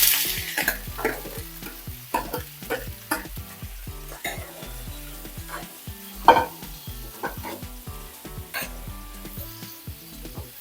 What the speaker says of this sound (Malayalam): ഇതിലോട്ട് ഈ അരിഞ്ഞ് വെച്ചേക്കുന്ന കിഴങ്ങില്ലേ അതിട്ട് കൊടുക്കാം.